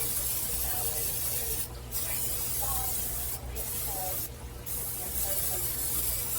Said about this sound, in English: first I'm going to spray my crock pot.